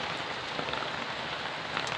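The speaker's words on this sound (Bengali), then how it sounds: "লাউ পাতায় পড়ছে বৃষ্টির পানি রিমঝিম রিমঝিম শব্দ চারপাশে" Steady rain patters on gourd leaves in a city setting, a dense continuous hiss of drops close by with no voices.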